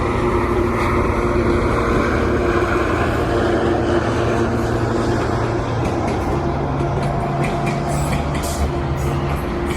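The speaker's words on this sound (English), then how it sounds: "We got a GO train and an Up Express train." A GO train and a shorter UP Express train pass together beneath an elevated expressway, a steady loud rumble and rolling rail noise continuing unbroken from near range, with brief higher squeals toward the end.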